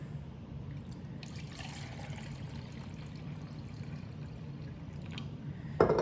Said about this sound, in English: we're going to pour it into our SCOBY Hotel